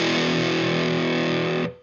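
An electric guitar chord rings through a Boss distortion pedal set at moderate gain, loud and sustained, then abruptly muted near the end.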